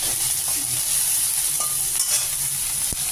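Small dried fish fry crisp in hot oil in a pan, giving a constant loud sizzle with faint pops and stirring scrapes and no voices.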